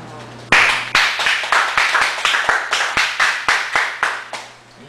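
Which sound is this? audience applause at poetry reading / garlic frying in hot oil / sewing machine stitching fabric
audience applause at poetry reading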